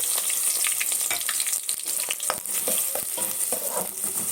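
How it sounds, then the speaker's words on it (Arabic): Onion fries in melted ghee in a pot with a steady, close, loud sizzle, broken by scraping stirs and small clinks throughout, with no voices. "واول ما السمنه ساحت نزلت عليها البصلايه"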